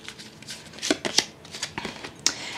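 Oracle cards are shuffled by hand, giving a soft, fluttering run of papery riffles and taps, close and fairly quiet, with no one speaking.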